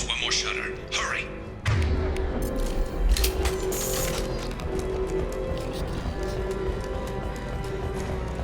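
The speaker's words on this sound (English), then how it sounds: "You close those shutters." A heavy metal shutter grinds shut in Mass Effect 2 Legendary Edition, a continuous mechanical ratcheting rumble. Voices are heard over it.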